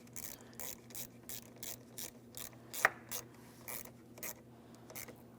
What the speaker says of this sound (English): continue on with tightening your 10mm mounting nut